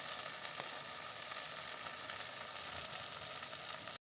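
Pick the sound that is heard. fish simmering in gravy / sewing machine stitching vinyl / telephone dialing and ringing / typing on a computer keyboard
fish simmering in gravy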